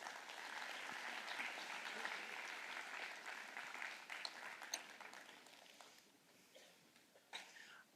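Audience applause in a lecture hall as a volunteer is called up, steady dense clapping for about five seconds, then thinning into scattered claps and fading out.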